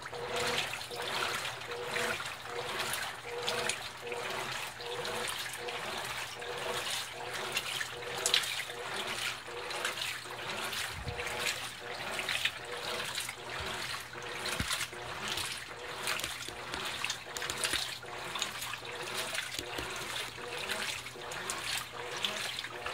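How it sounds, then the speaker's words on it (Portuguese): Water sloshing and trickling inside a Colormaq 15 kg washing machine filled for the rinse cycle on a jeans load, rhythmic swishing pulses repeating steadily, faint and close. "A lavadora está cheia já para a água do enxágue"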